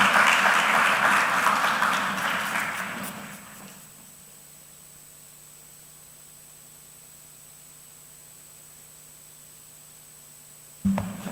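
Audience applause welcoming a speaker at a trade and economic event, a burst of clapping for about three seconds that fades out, followed by near silence and a brief sound at the very end.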